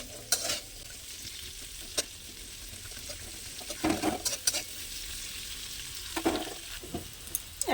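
Two large chopped onions frying in a pan, a soft continuous sizzle broken by several scraping stirs and clanks of a spatula, close and fairly quiet with no talking.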